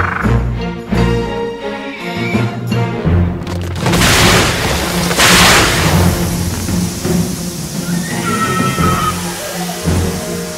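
Heavy volcanic eruption blasts in the Elkhorn Range: deep rumbling booms and two loud broadband explosions midway, over a sustained musical score.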